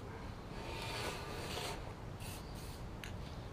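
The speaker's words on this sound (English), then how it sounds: "I'm just going to use the rest of this rattle can up." A nearly empty rattle can sprays wrinkle paint onto the deck of a 1956 Cooper Cyclo-Mo-18 mower, a steady close hiss that runs unbroken with a few short sputtering bursts near the end.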